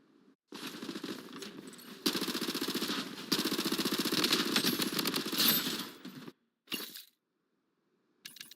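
Rapid video-game gunfire rattles in dense bursts of automatic shots, loud and close, with a sharp clattering rhythm, pausing briefly before a short final burst and a stray shot near the end.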